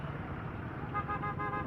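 A car horn toots briefly at a traffic light in Caloocan over the rumble of road traffic, moderately distant amid steady engine noise.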